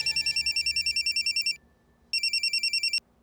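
A loud electronic phone ringtone trills in a rapid warbling pattern, pauses briefly, then starts ringing again before cutting off.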